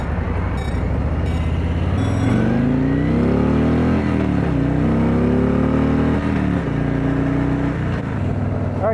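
A Harley-Davidson Street Glide motorcycle engine rumbles steadily up close, its pitch rising and falling as the rider throttles through a slow U-turn, with no talk over it.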